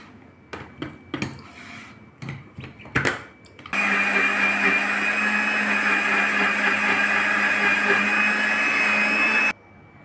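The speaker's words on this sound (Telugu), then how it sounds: "వేసి మిక్సీ పట్టుకోవాలండి" A kitchen mixer grinder blends muskmelon with rock salt and sugar, starting abruptly after a few clicks and knocks and running as a loud, steady whirring roar for about six seconds before cutting off.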